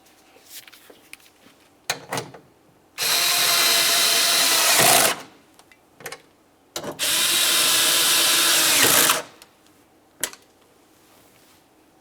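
A power tool drives the two 10mm mounting bolts of a rear wiper motor on a 2000-2006 Chevy Tahoe, with two loud sustained whirring bursts of about two seconds each, separated by light clicks and handling noises.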